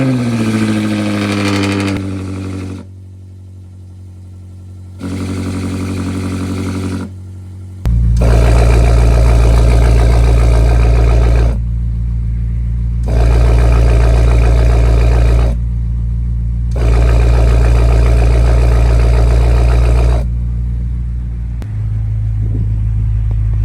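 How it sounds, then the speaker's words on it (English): A BMW F90 M5 with valved exhaust cold starts, its engine catching with a loud rumble, then settling into a deep idle broken by several sharp revving bursts that rise and fall. "let's go ahead and get a cold start with the valved exhaust"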